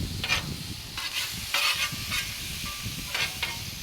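Onions sizzle on a hot grill beside burgers, a quiet continuous frying hiss with brief louder bursts as they are stirred or turned, close by and with no talking.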